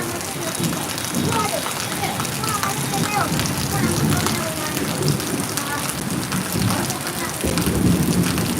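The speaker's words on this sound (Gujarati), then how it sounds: "અમારે હાલ અત્યારે સુરતની અંદર ધોધમાર વરસાદ અને વીજળીના કડાકા વરસાદ પડી રહ્યો છે" Heavy downpour with thunder and lightning over Surat, a dense steady roar of rain on surfaces filling the whole clip, with low rumbling swells and a brief louder burst near the end, while a person talks over it.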